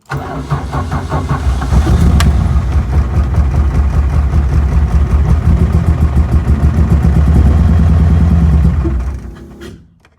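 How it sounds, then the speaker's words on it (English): A 1977 Vauxhall Cavalier mk1 with a Red Top engine, left unused for weeks, cranks and catches on a cold start, then runs loud and rough near the microphone for several seconds before dying away. "this is a bit of a cold start. It's not been started up for a good few weeks"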